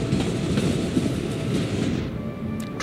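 A tram in the city-building game Cities in Motion 2 rolls along its rails with a steady rumbling clatter that fades toward the end, leaving a faint tone and a couple of soft clicks.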